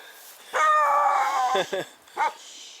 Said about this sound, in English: We have a young lady coming with a dog.